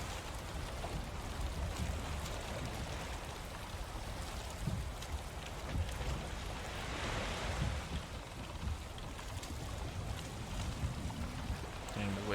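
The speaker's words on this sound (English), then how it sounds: "Dang, the waves are big here." Big ocean waves crashing near a rocky bay, a steady loud roar of surf with rushing swells rising and falling throughout, and no talk over it.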